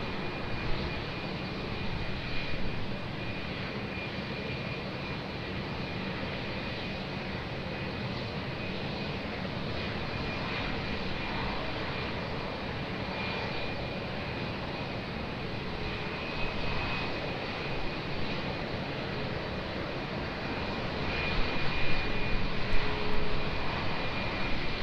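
An airplane at Lisbon Airport rumbles steadily with broadband engine roar during takeoff, swelling slightly toward the end, heard from a distance with no voices.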